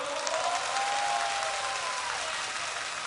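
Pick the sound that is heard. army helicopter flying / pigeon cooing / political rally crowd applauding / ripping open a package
political rally crowd applauding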